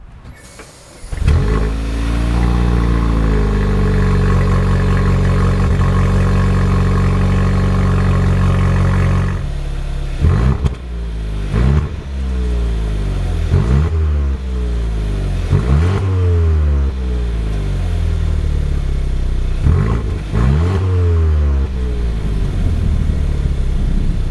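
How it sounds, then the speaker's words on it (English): A 2025 Hyundai i30 N Line engine cranks and catches on a cold start, settling into a loud steady idle, then revs up and drops back several times in repeated bursts. "I'm gonna go back in time and show you guys the cold start on this."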